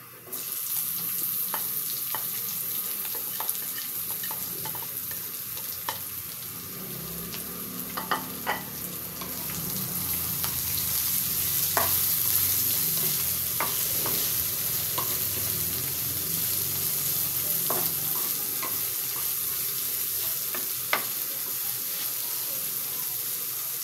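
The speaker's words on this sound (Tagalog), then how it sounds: "Lagay ko na yung sibuyas." Onions sizzle steadily in hot oil in a frying pan while being stirred for a home-style sautéed bitter melon dish, with occasional spoon scrapes over a continuous close frying hiss and no talking.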